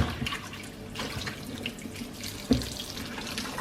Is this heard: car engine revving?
no